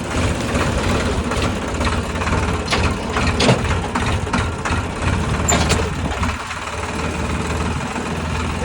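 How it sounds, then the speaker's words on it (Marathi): A tractor engine idles and rumbles steadily in a farm field, a loud continuous low chugging with scattered clanks and knocks. "बघू बरं कदम काय येतो का नाही ट्रॅक्टर त्याला जरा शिकवायचं काम चालू आहे."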